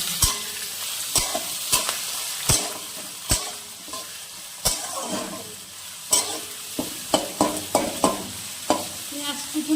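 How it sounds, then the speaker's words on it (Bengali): Chopped onions sizzle steadily in hot oil with cardamom and cinnamon for chicken pulao, while sharp clanks of a spatula against the pan punctuate the frying every second or so. "আমি এর মধ্যে কুচুনো পেঁয়াজটাও দিয়ে দিচ্ছি"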